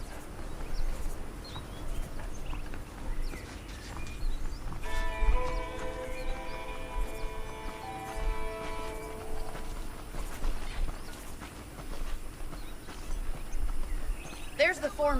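Horse hooves clip-clop steadily in the Western video game Red Dead Redemption, a moderate rhythmic walking pace under game dialogue and outdoor ambience, with a brief horse whinny midway.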